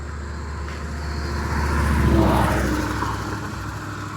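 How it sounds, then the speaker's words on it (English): Steady traffic rumble on a main road in Bell County, Kentucky, with a passing vehicle swelling louder midway and fading again, heard alone without voices. "I do beg pardon for the traffic noise"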